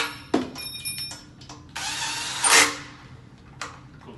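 A power drill whirs in several short bursts, with one longer rising run as a screw drives into wood while installing a stand, along with light clicks and handling noise.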